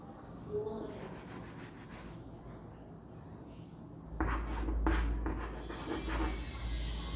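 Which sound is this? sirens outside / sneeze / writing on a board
writing on a board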